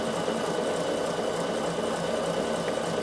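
Bernina sewing machine running a stretch stitch on knit fabric, a fast, even mechanical whir and needle clatter held steady and close for the whole stretch, with no speech.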